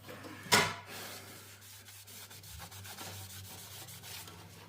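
A clean wet rag rubbed and wiped over a stone surface treated with a wet-stone lacquer, giving a continuous soft scrubbing sound, close and quiet, with one sharper swipe near the start.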